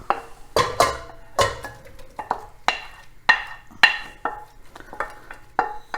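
Repeated clattering knocks of a spoon against a metal pot as fried mushrooms are moved into it, about a dozen sharp hits in uneven rhythm, close and fairly loud with no talking.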